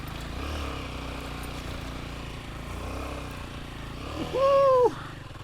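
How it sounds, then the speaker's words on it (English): Royal Enfield Himalayan 450 motorcycle engine under throttle while riding off-road, a steady drone throughout that rises into a louder, revving surge near the end. "Give it the throttle, let the momentum build up."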